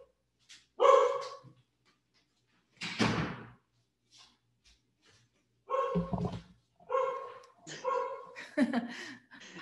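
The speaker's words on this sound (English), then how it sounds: "Your dog got my dog going." A household dog barks in a home office, sharp repeated barks in spaced bursts at close-to-middle distance, with voices speaking between and over them.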